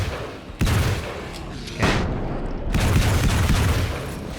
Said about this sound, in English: I have a flashbang.